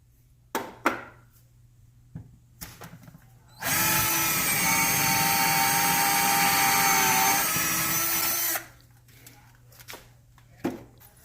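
A power drill bores a hole into a wall for a DIY helmet mount, a loud steady whine running about five seconds, with clicks and handling knocks before and after.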